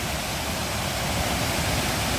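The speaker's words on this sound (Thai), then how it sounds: "มุมหน้าน้ำตก" Steady, full-bodied roar of the Tat Ton waterfall in Ubon Ratchathani, Thailand, constant rushing water filling the whole clip without pause.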